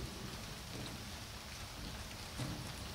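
Faint, steady rain hisses and patters outdoors on a truck and the ground during a truck wash. There is a slight thump late on and no talking.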